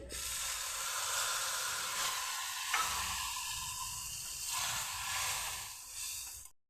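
Spice paste hits hot oil in a pan while cooking a cauliflower and paneer dish, giving a loud, continuous hissing sizzle that swells and eases with stirring before cutting off at the end.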